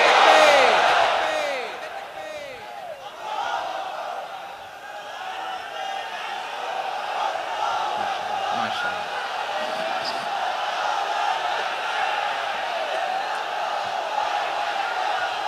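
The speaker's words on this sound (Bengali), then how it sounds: "তাকবীর পড়ুন, লিল্লাহি তাকবীর।" A large congregation at a Bengali Islamic sermon gathering, led by a preacher, shouts the takbir in a loud massed call. The roar hits hardest at the start, then settles into sustained crowd voices.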